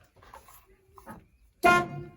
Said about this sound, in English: take a look at the steering wheel. Give it a little honk for you guys.